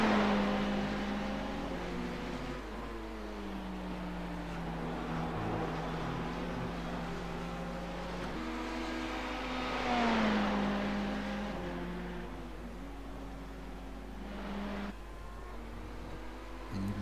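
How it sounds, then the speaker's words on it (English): GT3 race cars roar around Oulton Park, with engines rising and falling through gear changes as they pass, and a continuous loud drone carries through the whole stretch. "See these guys push their cars to their limits."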